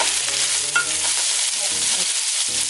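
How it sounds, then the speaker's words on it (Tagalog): Ingredients for macaroni soup sauté in a hot pan, a bright steady sizzle with a few stirring scrapes, close and loud, no voices. "Gisa-gisa ng onte."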